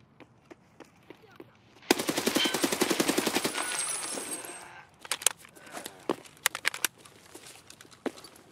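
Automatic gunfire in Escape From Tarkov: scattered single shots, then a sustained loud burst of rapid fire for about three seconds, followed by more spaced shots and clinking.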